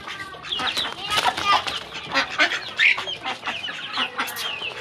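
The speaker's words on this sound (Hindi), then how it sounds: "ये हमारा मुर्गा देखें कैसी बात निकाल रहा है।" A backyard rooster gives repeated clucking calls in short bursts. Other birds chatter and wings flap now and then close by.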